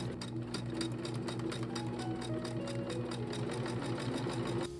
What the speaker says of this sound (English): And then I started sewing all those little pieces together.